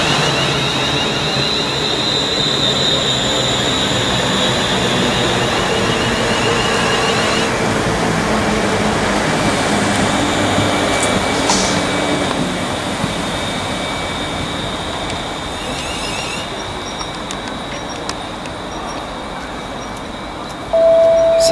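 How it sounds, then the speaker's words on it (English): A Class 350 electric train pulls into Stafford station on the West Coast Main Line with a steady broad rumble and a whining tone, fading gradually before a brief high beep near the end. "Coming in, forming a Birmingham New Street to Liverpool Lime Street service."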